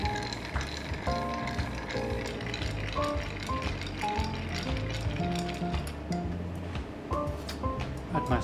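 Ice rattles and clinks continuously as a rum-based Palmetto cocktail is stirred in a mixing glass, a close, steady tinkling with a soft grinding wash beneath and no talking.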